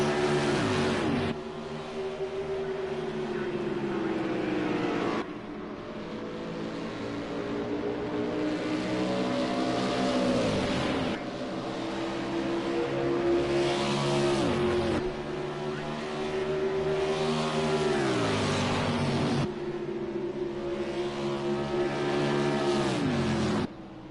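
Race cars in a stock-car-style Great American Race in Texas roar past in repeated loud engine sweeps, the pitch climbing and then dropping with each car that passes, in a steady run of fly-bys with no voices.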